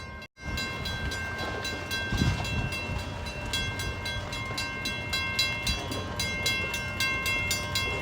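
A train rolls past nearby on a railway track in the United States, giving a loud steady rumble with a rhythmic clickety-clack of wheels over the track joints.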